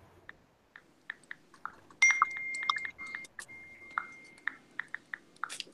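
A phone gives sharp, light clicks in an irregular series with short tonal chirps, heard close against a quiet room.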